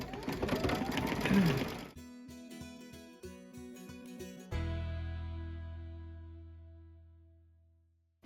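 A sewing machine stitches down a gable tack and fabric in quick running bursts, stopping and starting in short runs with a ringing decay, no talk over it.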